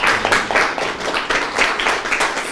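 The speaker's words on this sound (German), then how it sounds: "einmal einen herzlichen Applaus" Applause at an art gallery opening for a painter, a brief burst of close hand clapping from a small crowd in a room.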